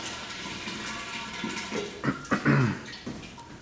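Water drains from a hydrostatic pressure measuring column, a soft steady trickle with a few brief gurgles and splashes near the end, no talk.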